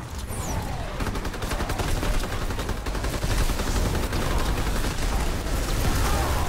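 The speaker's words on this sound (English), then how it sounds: "I'm firing my Tesla at him" The Tesla weapon in Call of Duty: WWII Nazi Zombies fires continuously in a dense, rapid crackling barrage, steady and loud for the whole stretch with no talk.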